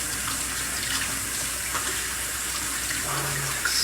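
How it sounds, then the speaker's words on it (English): Warm tap water running steadily into a sink as soapy hands are rinsed, a constant close hiss and splash with slight shifts near the end. "I'm washing them now. I'm rinsing them off. Getting all the soap off my hands."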